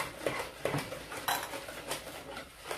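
A utensil stirs and scrapes a mixture in a bowl, making repeated clinks and taps spaced about every half second at moderate loudness, with no talk.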